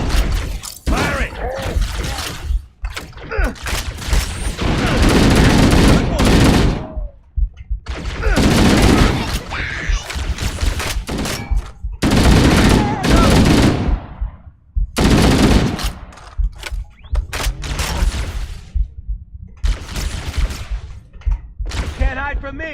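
Rapid automatic gunfire from the Halo video game, in loud sustained bursts with short gaps between them, mixed with impacts and someone talking in between.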